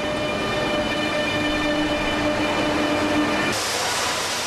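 An AVE high-speed train at Zaragoza's intermodal station gives a steady, loud rolling rumble with a sustained tonal whine from the rails and traction, continuous throughout and shifting to a brighter hiss near the end.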